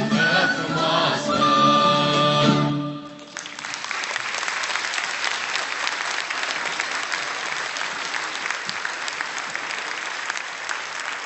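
Audience applause after a Romanian folk music performance: the singing and instruments end abruptly, then broad, even clapping from a large crowd fills the hall and continues steadily to the end.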